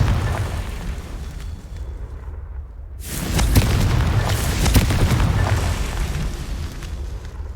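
A Confringo fire spell in Hogwarts Legacy bursts with a sudden loud boom partway through, then a long rumbling, crackling blast that fills the rest of the moment over a low background hum.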